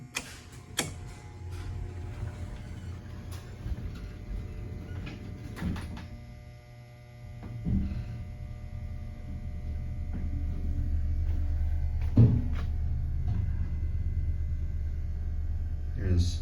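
A 1958 Reliance hydraulic elevator starts its ride with a steady low hum and rumble that swells louder partway through, while faint mechanical clicks and door noises sound and a person talks quietly.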